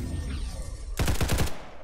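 A short, loud burst of about five rapid AK-47 shots in Roblox Paragon Zombies, cracking close up after a second of steady game background.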